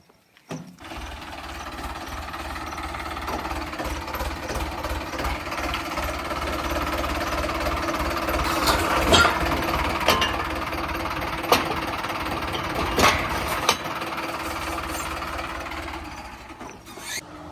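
A Kubota tractor engine runs at a steady idle-like drone with faint rapid mechanical knocking, moderately near, with a few sharper clanks and no talk over it.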